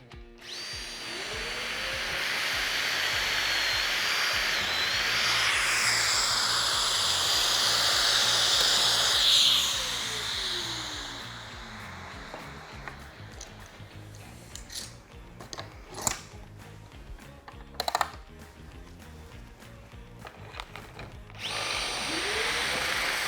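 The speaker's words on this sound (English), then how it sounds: "put the supplied bit into my Festool drill" Festool drill with its supplied bit boring a depth-limited hole for a cabinet connector, a loud sustained whine that winds down midway, followed by scattered clicks and workshop handling noises.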